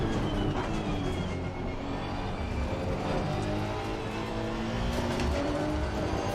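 Racing car engines in the Live for Speed sim, including a Honda chasing a Porsche, roar steadily and loudly throughout, with shifting revs and passing cars layered over each other and no talk.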